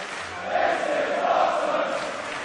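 A pro wrestling arena crowd cheers during a match. A steady, loud roar of many voices swells slightly in the middle and carries on without a break.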